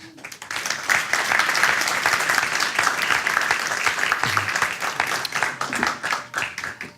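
A conference audience applauds a speaker steadily, many hands clapping in a dense continuous patter that tapers slightly toward the end.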